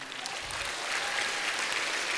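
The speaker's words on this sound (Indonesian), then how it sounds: "Terima kasih sempatkan Pak Tatang, boleh kasih tepuk tangan." Audience applause at a university event in Kuningan, a steady, dense clapping crowd that holds at an even level for the whole stretch with no voices on top.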